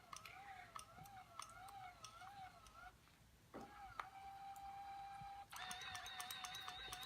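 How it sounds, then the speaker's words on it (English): A nasogastric feeding pump auto-primes its tubing, giving off a warbling electronic whine that stops, then returns as steady motor tones with faint ticks. It is close but quiet, with no voices over it. "So what I'm doing is priming the pump, and I'm going to auto prime."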